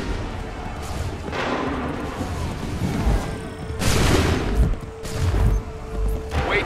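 Musket volleys crash out in the Assassin's Creed III game, several loud booming bursts of gunfire landing at irregular intervals, with the biggest blasts near the middle and a faint tone running underneath.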